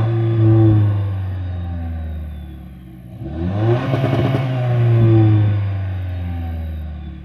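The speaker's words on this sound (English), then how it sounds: "the exhaust also sounds pretty good, to be honest, for a four-cylinder" A 2024 Toyota Tacoma TRD Pro four-cylinder with TRD Performance intake and exhaust, heard from outside, idles with a steady loud drone, swells into a short rev midway, then settles back to a smooth idle.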